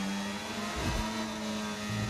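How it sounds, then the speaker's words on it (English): A Formula 1 car engine in a racing game at the Australia circuit sustains a steady high-pitched drone, with a brief gear-shift dip and rise midway, loud and continuous throughout. "Slamming the revs. Flooring the throttle."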